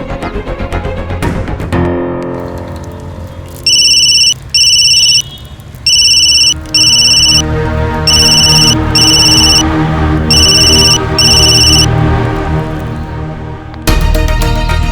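A telephone rings in a Hindi television drama scene, its bright electronic tone sounding in four evenly spaced pairs over soft background music, with no talking.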